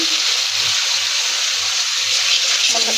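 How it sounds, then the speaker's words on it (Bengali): Hot water hits a frying spice masala of tomato, turmeric, chilli and coriander in a pan, giving a continuous gushing sizzle with faint stirring knocks. "দিয়ে দেবো কিছুটা গরম পানি।"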